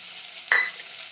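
Spices and capsicum sautéing in a pot for moong dal khichdi, a soft steady sizzle with one sudden brief hiss as the pan is stirred, close and with no talking.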